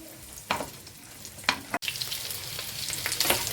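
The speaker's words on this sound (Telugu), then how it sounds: "ఎండుమిరపకాయ దోరగా వేగుతుంది కదండి, ఇందులో మనం ఉల్లిపాయలు వేసుకుందామండి." Onions frying with dried red chillies in hot oil, a steady soft sizzle with a few sharper crackling bursts as the pan is stirred, close by and with no talk.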